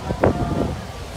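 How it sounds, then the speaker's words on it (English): Strong wind rumbling against the microphone in a brief gusty burst at the Cedar Point amusement park, with a faint voice-like sound mixed in. "It's very windy."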